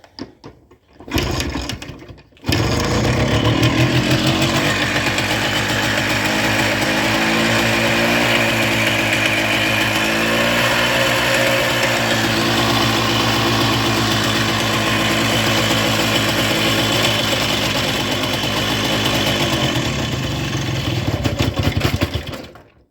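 An engine with a faulty carburetor starts with a few sputters, then runs loud and steady at close range for about twenty seconds before cutting out and stalling, with no talking.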